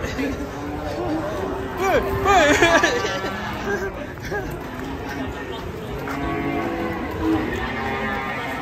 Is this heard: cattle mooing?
yes